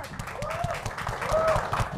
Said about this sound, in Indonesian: Beri tepuk tangan yang meriah untuk Sandi Bandot.